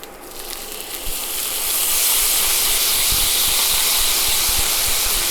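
Balsamic vinegar dumped into a hot pan of browned, crispy perogies, erupting into a loud, steady hiss and sizzle that builds after a second and stays strong, close up.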